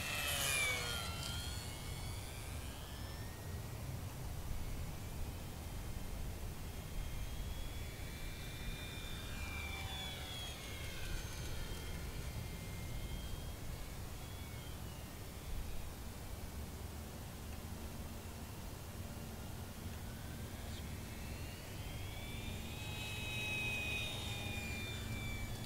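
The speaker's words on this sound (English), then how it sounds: "The Mustang flies inverted well and only requires a little bit of down elevator to hold the" E-Flite UMX P-51D Mustang RC model plane flying, a steady faint electric motor whine that rises and falls in pitch as it passes, with constant wind-like background noise and no talk.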